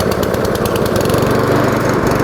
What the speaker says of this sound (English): I'm going to pull back the lever and give it a pull.